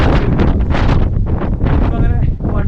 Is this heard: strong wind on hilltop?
yes